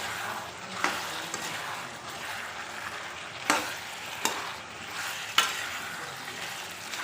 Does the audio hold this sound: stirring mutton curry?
yes